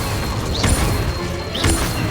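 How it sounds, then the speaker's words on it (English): Two Incendio fire spells cast in Hogwarts Legacy gameplay, each a sharp whooshing burst with a crackling fiery impact, spaced about a second apart over a loud, busy combat background. "Incendio."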